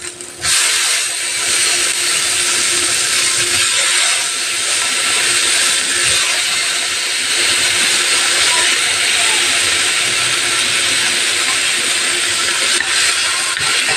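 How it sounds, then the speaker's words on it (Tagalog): Garlic and tomatoes sautéing in a pan for a Filipino fried fish with egg dish: a steady, loud sizzling hiss that runs unbroken for the whole clip. "Gisa-gisa muna natin hanggang sa lumabas yung katas ng kamatis."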